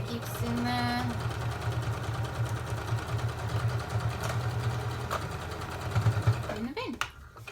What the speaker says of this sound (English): take it to your sewing machine and start kind of at the bottom there so it stays in, and then you just sew straight along